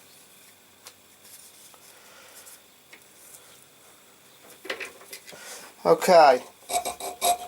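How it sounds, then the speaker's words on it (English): A chainsaw file rasping on a friction folder knife, quiet scattered scrapes at first, then louder repeated rough filing strokes close by, with a brief spoken word. "we'll start working that now with the right chainsaw file again."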